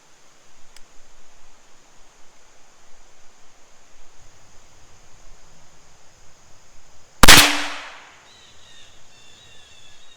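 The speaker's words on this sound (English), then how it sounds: "And the shot's away." One youth-sized rifle shot, a sudden loud, close crack with a short decaying tail, breaking a steady quiet background hiss.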